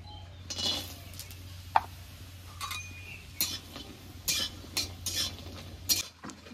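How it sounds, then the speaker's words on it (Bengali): Lentil badi frying in oil in a wok, a quiet steady sizzle under a low hum, punctuated by several sharp clinks and scrapes of a utensil stirring against the pan. "এবার ডালের বড়িগুলো ভেজে নেব।"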